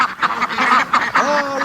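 A group of ducks quacks close by in a rapid, overlapping string of calls, steady and loud, with no voices.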